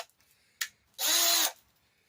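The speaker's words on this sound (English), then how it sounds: "Okay, this drill has got speeds." A power drill runs in a short, loud burst of about half a second after a brief earlier blip, used while honing a front shock on an Arctic Cat Ramrod.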